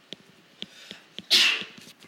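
One sharp, loud sneeze bursts out in the middle of a quiet room, preceded by a few soft rhythmic ticks or taps.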